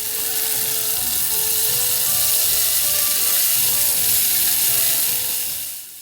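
A fish head frying in hot oil in a wok, a loud continuous sizzling hiss that holds steady, then drops away abruptly at the very end.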